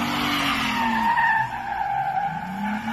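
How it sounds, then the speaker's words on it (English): Toyota Tacoma pickup drifting, a loud sustained tire squeal with the engine note rising and falling underneath, close and continuous for about three seconds. "that was a pretty good little drift"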